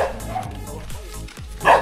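A dog barks a few times near a house entrance as people talk close by, the yaps brief and mixed into the voices, with one louder bark near the end.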